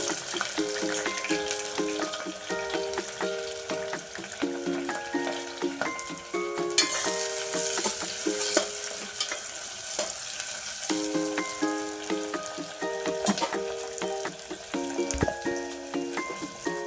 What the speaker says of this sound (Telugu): ఉల్లిపాయ పచ్చిమిరపకాయలు వేయించేసుకుందాం ముక్కలు మనం